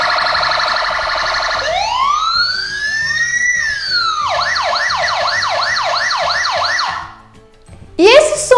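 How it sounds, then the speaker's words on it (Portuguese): A loud wailing emergency siren rises and falls in long slow sweeps, then switches to a fast yelping warble, and ends with a sharp burst after a brief dip in level. It sounds alone, with no talk. "Isso mesmo, é o som da sirene."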